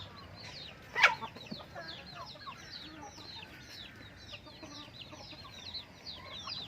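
Chickens cluck and chirp softly in short repeated calls throughout, with a brief sharper sound near the start over a low outdoor rumble in rural Thai farmland.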